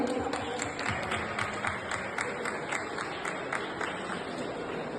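Audience at a TEDx talk applauding a speaker's mother-in-law, with a steady, moderately loud patter of many hands and some individual claps standing out, continuing without pause.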